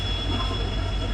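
WDP 4D diesel locomotive number 4028 passing close by, a loud steady rumble of engine and rolling wagons filling the brief moment with a faint high tone above it.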